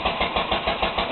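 A 1938 International Harvester McCormick Deering LB stationary engine fitted to a Wheel Horse tractor runs steadily, its regular chugging exhaust pulses repeating about five times a second at close range with no voices.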